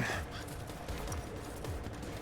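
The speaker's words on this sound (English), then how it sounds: "Now that was a gunshot." A gunshot in the Final Fantasy VII Remake video game, heard as sharp cracks over a dense, noisy game soundscape, moderately loud with no clear talking.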